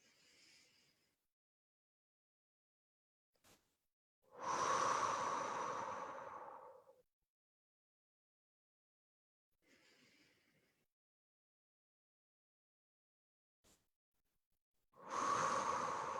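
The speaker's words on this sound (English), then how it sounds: "really fill your lungs with air as you breathe in through your nose, and really empty your lungs as you breathe out through your mouth" Slow, deep breaths drawn in through the nose and pushed out through the mouth, three long exhales spaced several seconds apart, close and soft against near silence.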